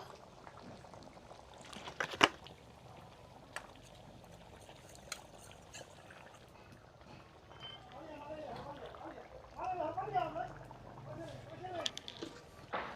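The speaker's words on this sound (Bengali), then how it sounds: "আমি দিয়ে দিব আরও 1 চামচ কর்নফ্লাওয়ার গুলিয়ে জল। এর মধ্যে একটু জল দেব।" Cornflour slurry and a little water poured into chilli chicken in a pan, a soft, faint liquid pour with light bubbling that swells near the end, with quiet kitchen noise around it.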